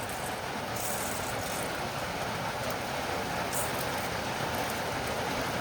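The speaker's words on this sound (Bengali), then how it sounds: "আর বৃষ্টিও হচ্ছে ভাই টাইম মতো।" Steady rain falls over an outdoor cooking spot in the Sundarbans, a dense, even hiss that holds without break, with no voices.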